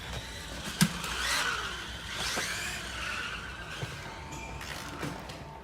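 A remote-controlled car carrying a camera drives along, a faint buzzing motor whine with skidding and tire scrub, a few sharp knocks and bumps, fairly quiet with no talk.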